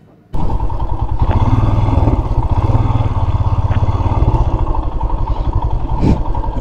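A motorcycle rides along a green countryside road from Tezpur to Manas, its engine a loud, close, steady throbbing drone with wind noise and clatter, continuous after a sudden start.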